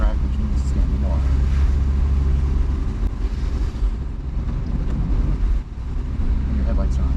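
A Porsche drives on a wet race track in the rain, its engine droning steadily under constant tire hiss and spray, with wind rushing over everything.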